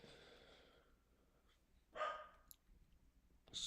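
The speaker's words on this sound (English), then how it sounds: "Excuse the dog barking." A dog barks indoors in two short, sharp bursts separated by quiet, with low room noise and faint movement in between.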